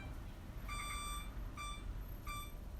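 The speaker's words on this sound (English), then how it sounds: "Let's set the oven timer" An oven timer gives three short electronic beeps, each a bright tone, heard fairly faintly over a low background hum while it is set in a home kitchen; no one speaks.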